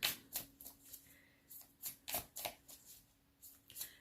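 Oracle cards are shuffled close by in quiet, irregular bursts of crisp riffling and slapping, with brief pauses between.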